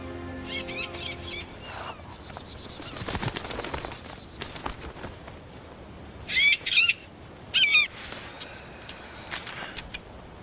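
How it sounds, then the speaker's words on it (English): A bird calls from a fantasy adventure scene, giving two short bursts of chirping, fluttering cries near the end over background music and low ambient sound, following an earlier whooshing passage. "You talked to that bird."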